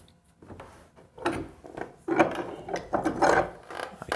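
A rip saw blade set against a wooden block is clamped in a bench vise, giving a series of uneven woody creaks, rubs and ratcheting clicks that build louder over a few seconds, close up with no talk.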